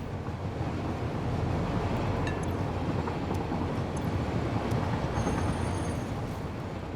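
A train in the factory-building game Satisfactory rumbles along continuously, a dense, even roar of wheels and carriage noise that holds steady throughout, with faint squeals on top and no talking.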